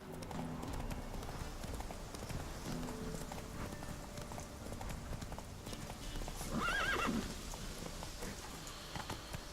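A horse galloping in The Witcher 3, steady rapid clip-clop of hooves under rainfall, with a loud neigh near the end and occasional speech.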